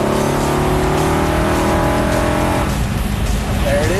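A 1971 426 Hemi Charger muscle car pulls hard under steady, loud engine drone with rising harmonics, then the tone shifts and roughens near the end as the car keeps accelerating; voices are faintly present beneath.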